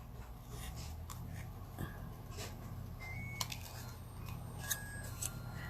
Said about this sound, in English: my fussy cutting is much better with these scissors